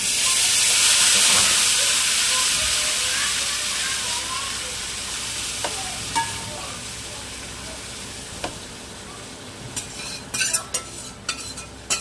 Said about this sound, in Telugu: ఇప్పుడు మనం మ్యాగ్నేట్ చేసుకున్న చికెన్ వేసుకుందాం.